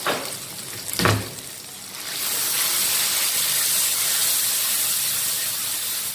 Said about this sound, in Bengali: নেড়ে চেড়ে মশলাটা কষিয়ে নিব।